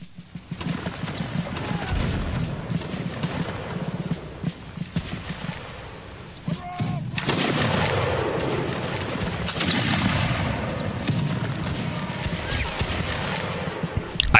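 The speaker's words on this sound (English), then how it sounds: "They're shooting at us." Musket volleys crackle in a Napoleonic-era battle in Mount & Blade, with dense, overlapping shots rolling on continuously and a brief lull before the firing swells again, loud and close, with faint footsteps beneath.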